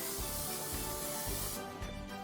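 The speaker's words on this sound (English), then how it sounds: "I'm going to spray some non-stick cooking spray inside so my cake will not stick." Non-stick cooking spray hisses steadily as it is sprayed into a silicone cake form in a home kitchen, one continuous close spray of about a second and a half that then stops.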